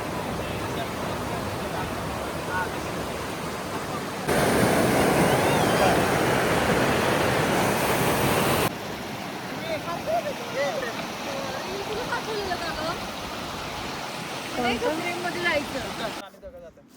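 Mountain water of Staubbach Falls in Lauterbrunnen rushes steadily, swelling into a loud broadband roar midway before settling back to a softer rush, with voices chatting nearby.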